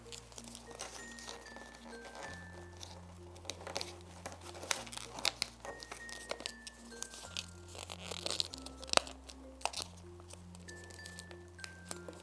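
Paper being folded backwards along a line for a children's second-grade craft lesson, giving soft crinkles and rustles with a few sharper creases, faint beneath steady background music.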